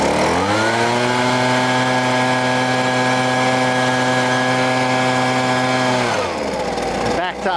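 A Husqvarna 125B leaf blower engine held at a high, steady revving drone under throttle for about six seconds, then dropping abruptly toward idle with a sputtering tail, loud and close.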